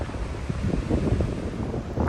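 Steady wind buffeting the microphone at the seashore in Karachi, with the soft wash of waves underneath, close and continuous with no voices.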